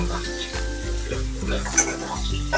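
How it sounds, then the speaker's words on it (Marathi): Chopped onion sautés in a pan for a ridge gourd dish, a loud close sizzle punctuated by repeated stirring scrapes and a couple of light utensil clinks. "आणि चॉप केलेला कांदा आपण घालून घेऊया त्याच्यामध्ये आणि व्यवस्थित परतून घेऊयात।"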